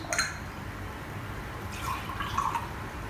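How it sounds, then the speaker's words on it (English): Water being poured into a measuring cup in a home kitchen while making cornbread, heard as faint splashing and trickling in a couple of short bursts over a steady background hiss, with no voices. "that's our generous half cup of water"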